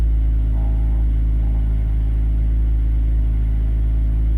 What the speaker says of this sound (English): noise is those wonderful eBay headers